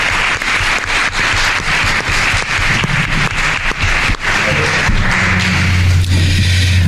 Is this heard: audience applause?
yes